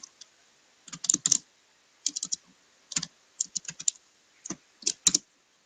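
Bursts of fast typing on a computer keyboard while entering HTML code: quick clusters of crisp key clicks separated by short pauses, close up, with no talk.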